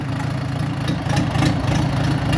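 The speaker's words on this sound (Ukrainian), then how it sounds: "Відвантажуємо Оріон 404 РДшку на КМ 490 двигуні, повнопривідний, з додатковою гідравлікою" The all-wheel-drive Orion RD404 machine with a KM 490 engine runs close up, a loud, steady, throbbing diesel rumble with a slight lift in intensity partway through.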